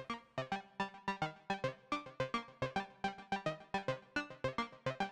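A synthesizer arpeggio with delay repeats quick, bright plucked notes in a steady rhythm, with echoes filling the gaps between them, and no one speaking.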